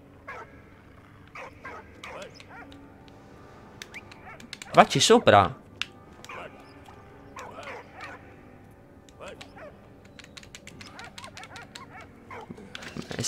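A dog in the video game Valiant Hearts growls, whimpers and barks, with one loud burst midway among scattered quieter yips and game sounds, while a person talks over it at times.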